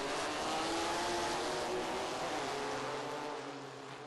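ISCARS Dash race cars at Lonesome Pine, heard as a steady, loud engine roar with a droning whine that holds and then fades slightly toward the end, with no talking.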